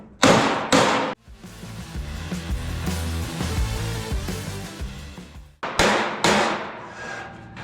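On 1973 El Camino fender sheet metal, a hammer and dolly land a few heavy, close, ringing blows at the start and again near the end, with a steady whirring drone filling the stretch between.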